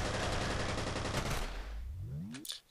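Rapid automatic gunfire from the shooter F.E.A.R. Extraction Point rattles loud and dense, then cuts off into a fading tail and a last sharp shot.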